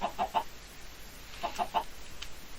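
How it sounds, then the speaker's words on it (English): Two groups of three quick clucks from chickens in the Minecraft video game, near and fairly clear over quiet background, with a pause between the groups. "Sinister chickens"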